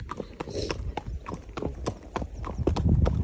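A horse's hooves clip-clop steadily along a country lane on a hack, close and crisp, with some faint background noise.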